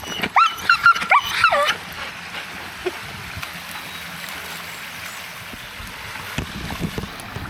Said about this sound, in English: like most Labradors, she likes the water.